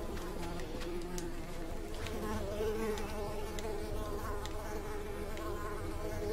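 Swarming mosquitoes in a forest in the game Unravel give off a continuous high, wavering whine, close and fairly loud, layered over steady game ambience with small clicks scattered through.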